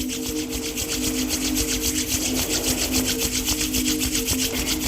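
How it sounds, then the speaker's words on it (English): Hands rub briskly together in a steady, close, rhythmic swishing that continues without pause, with a low background hum underneath. "Starting to invite some warmth into our hands by rubbing them together, creating some energy,"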